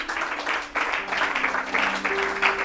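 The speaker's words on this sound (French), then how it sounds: "Acclamons très fort le Seigneur Jésus-Christ" Church congregation applauding during a sermon, a steady wash of clapping hands filling the room for a few seconds, with sustained tones beneath the applause.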